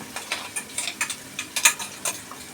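Coarse biryani masala paste frying in oil for a country-style chicken biryani, heard as soft sizzling broken by rhythmic scrapes and taps of a spoon against the pan, close up and with no voices.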